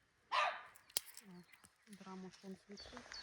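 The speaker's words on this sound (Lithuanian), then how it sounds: "Ten Zara loja." A dog barks a few times at a distance, mixed in with nearby people talking and a sharp knock.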